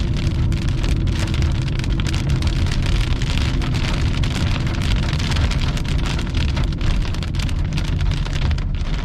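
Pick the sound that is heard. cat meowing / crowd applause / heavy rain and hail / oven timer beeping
heavy rain and hail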